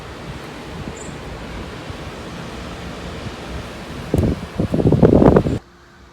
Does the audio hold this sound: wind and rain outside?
yes